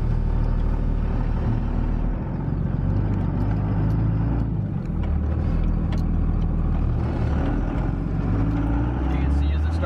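A diesel truck engine pulls away from idle and builds boost, a steady loud low drone and road rumble that holds throughout, with talk running over it.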